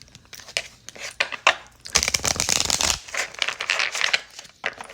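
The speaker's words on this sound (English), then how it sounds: "Let's give it one more shuffle." Tarot cards being shuffled by hand in a series of crisp riffling and crinkling bursts, one dense sustained flurry in the middle, close and fairly loud with no talk.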